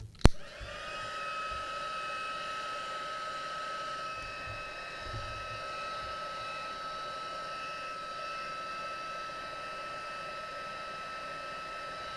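A hair dryer blows steadily over a watercolour painting of Christmas stockings, a constant close whine and rush after a brief click at switch-on, alone without talk.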